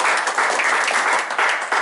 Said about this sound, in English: Missy deserves a round of applause